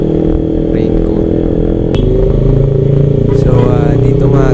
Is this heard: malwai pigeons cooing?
no